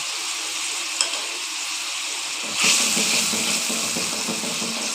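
Paste of cumin, coriander and chili sautéing in a pan gives a continuous, close frying sizzle, with a short click and a brief louder hiss surge partway through as it is stirred.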